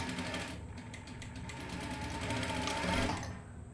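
A sewing machine runs continuously at close range, stitching a bias cross piece onto a neckline, with a steady mechanical whir and a rapid needle rhythm throughout and no talk.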